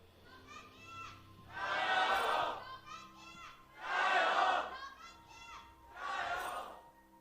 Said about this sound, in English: Crowd out in force here